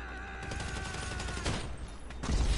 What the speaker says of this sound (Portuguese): É tiro de tudo quanto é lado.